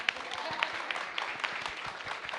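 A live audience at a talk gives a short, moderately loud round of applause, a steady patter of many hands clapping with a few sharper claps and faint voices underneath.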